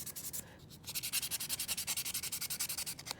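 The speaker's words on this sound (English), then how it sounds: "So when you take your stainless steel brush and brush it, and you can use sandpaper." Copper and silver jewelry inlay scrubbed with a stainless steel brush in quick, even back-and-forth strokes. Each stroke is a soft, close scratchy rasp, and the rhythm runs fast and regular after a brief pause.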